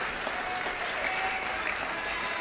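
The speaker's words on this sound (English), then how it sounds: "Let's have one more round of applause for our girls and boys wrestling teams" Sustained, dense applause from a crowd at a high school gym ceremony honoring the girls and boys wrestling teams, a steady roar of clapping throughout with no breaks.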